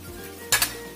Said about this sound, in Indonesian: kita masukkan cabai rawitnya yang utuh, kemudian kita masukkan tongkolnya